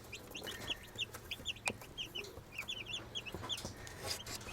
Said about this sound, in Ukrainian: Оп, курчатка.